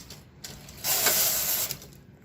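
An SK560 knitting machine runs its carriage across for a couple of rows, giving a steady mechanical clatter and ratcheting rattle that swells loud for about a second in the middle, close by and with no talk.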